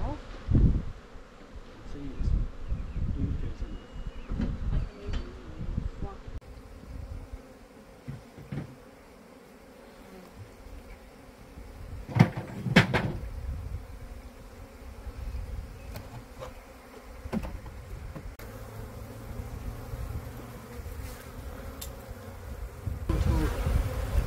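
Bees hum and buzz inside an opened beehive during hive work, a fairly quiet, wavering drone with brief louder swells as insects pass close to the microphone, plus faint handling rustles.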